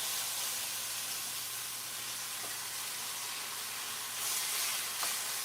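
Food sizzles in a hot cast iron skillet with oil, a steady broadband hiss that is close and moderately loud, swelling briefly near the end.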